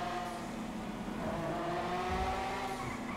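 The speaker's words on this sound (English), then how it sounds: "The specialty of this car is having the V12 sound on this car is so amazing." V12 car engine in the video game GTA 5 drones at a steady, moderate level with a sustained tonal hum that rises slightly in pitch, heard alone without talk.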